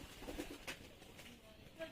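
Pigeons being readied for flight training give a few soft coos close by, faint and brief, heard under low background noise.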